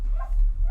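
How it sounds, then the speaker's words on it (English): A neighbor's dog gives a quick, muffled bark or yip from some distance away outdoors, a single brief sound over low background rumble. "I love you, neighbor dog."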